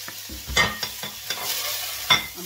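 Garlic sautéing in olive oil with onion in a pan for pasta marinera, a soft sizzle broken by a few stirring scrapes and clinks in a short burst.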